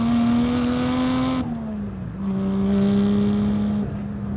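Turbocharged 1JZ engine in a Toyota Mark II JZX100 with a short shift kit and R154 gearbox pulls steadily and loudly up close, drops briefly during a gear change, then climbs again into a smooth, droning pull.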